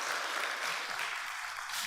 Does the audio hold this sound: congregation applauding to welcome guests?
yes